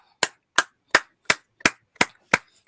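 A single person claps their hands eight times in a steady rhythm, each clap sharp and close, with clean silence between them.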